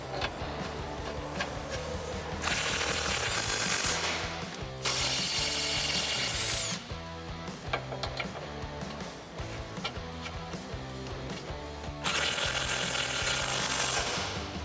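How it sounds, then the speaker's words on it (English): A hand ratchet with a 13mm socket loosens bolts under a 2018 Ford Mustang GT, giving steady, close, rapid clicking pawl strokes in repeated runs with brief pauses between them. "So I have a 13mm socket, and we'll start pulling these out one at a time."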